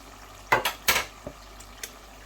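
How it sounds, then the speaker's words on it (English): A spoon stirs chopped tomatoes and spices in a pot of meat curry, with a few sharp scraping knocks against the metal at a close, uneven pace and no talking. "Then we're going to give them a mix."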